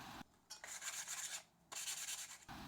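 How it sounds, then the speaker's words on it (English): Hand sanding on a wooden slat for a van ceiling subframe in several back-and-forth strokes, a raspy rubbing that starts and stops with short pauses, close and quiet. "Then a bit of sanding and the subframe is ready for installation."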